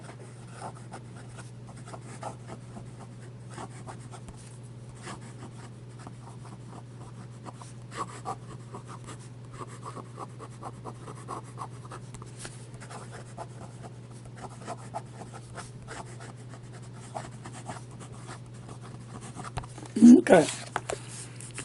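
Fast writing on paper: a soft, continuous scratching of a pen or pencil over a steady low hum, faint and close, with a short spoken word and a louder rustle near the end.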